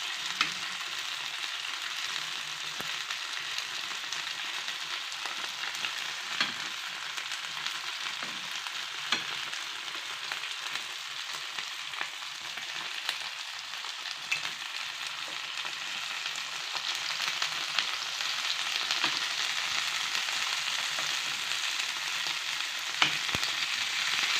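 Fish frying in hot oil with curry leaves gives a constant dense sizzle with crackling pops, close and steady throughout, with no voices.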